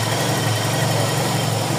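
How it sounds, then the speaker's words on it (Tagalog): A Toyota 4AFE engine idles steadily after a cold start, a loud, constant low rumble with a slight vibration and no RPM swings, heard close up with no voices. "ayan na yung cold start niya"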